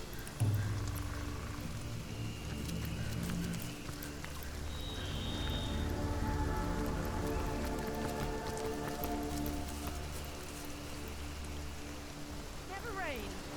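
Rain falls in the video game Divinity Original Sin Enhanced Edition, an even wash of patter on surfaces behind layered game tones and background music.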